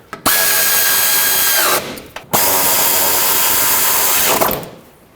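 A power tool drives fasteners on a car splash shield during a 2007-2010 Chrysler Sebring repair, in two loud, close whirring bursts of about one and a half and two seconds, each spinning up sharply and then winding down.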